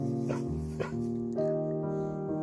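Shepherd's dogs on a sheep farm make continuous close, loud whining and yipping vocal sounds with a few sharper yelps.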